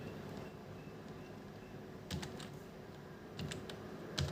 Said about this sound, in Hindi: ऐसे बोलते चले जाना है आपने और टाइप करते चले जाना